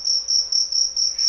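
Cricket chirping used as a silence gag after a joke falls flat, a steady high-pitched trill repeating in short even bursts, alone and fairly loud against a quiet background.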